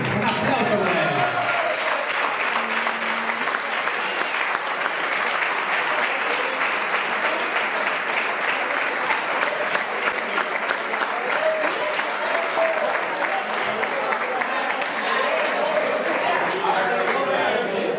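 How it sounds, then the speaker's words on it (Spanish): Sustained audience applause at a bullfighting gala awards night in Segorbe, greeting a trophy winner; dense, steady clapping from a large crowd fills the room throughout, with a few voices mixed in. "Un aplauso para él."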